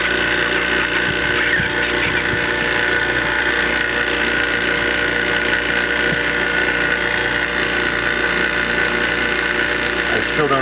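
A two-stage hydraulic jack strains while lifting a building, giving a loud continuous mechanical whine and grinding hum with occasional knocks, and a voice speaks over it at times.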